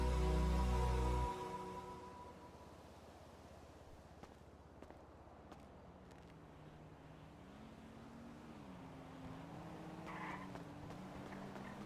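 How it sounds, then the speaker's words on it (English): In a video game, a loud engine roar opens, then a muscle car drives past at a distance, its engine note wavering faintly through the rest. "sometimes I hear that muscle car drive by"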